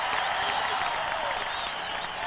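A huge stadium crowd of about 50,000 cheers and applauds at a Frisbee championship, a dense, continuous roar with no single voice standing out.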